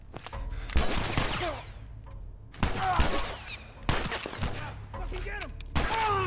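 Rapid bursts of gunfire in The Last of Us, several loud volleys of shots in quick succession with ringing tails between them, no voices over them.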